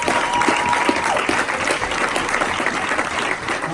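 A church congregation applauding to praise God: dense, loud, continuous clapping from a large crowd, close and sustained throughout with faint voices beneath.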